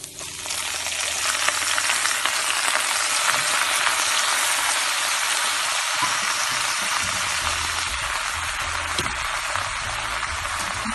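Beef and spinach with chili stir-frying in a hot pan give off a loud, steady, close sizzle that continues without a break and without talking.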